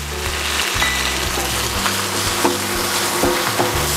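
Onion sizzles and crackles in hot olive oil in a pan, a continuous close frying hiss with occasional stirring clatter.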